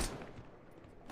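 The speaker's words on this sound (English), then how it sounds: "they're returning fire, I'm shooting them" Rapid gunfire from the military shooter ArmA, a dense burst of loud near shots filling the whole moment with no talking over it.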